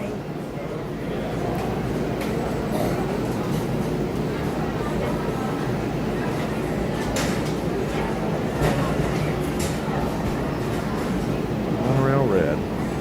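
A Disney World monorail train rumbles steadily along in a low hum with faint rattles and air noise, while people talk over it throughout.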